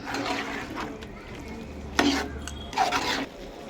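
Chicken curry being stirred in a pot, Telangana style, with a soft scraping, sloshing rhythm of spoon against the vessel and a couple of louder clanks near the end.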